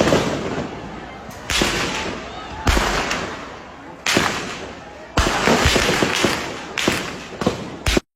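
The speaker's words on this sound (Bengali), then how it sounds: "গুলির শব্দ হয়তো পাইতেছেন" Gunfire during a street clash at Ashulia bazaar in Bangladesh, where army and BGB vehicles were vandalized: a string of loud, sharp bangs at irregular intervals, each cutting abruptly through a constant roar of crowd and street noise.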